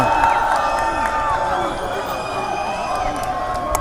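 A large crowd arrives at Place de la République in Paris, a dense, loud murmur of many voices with cheers and whoops rising from it.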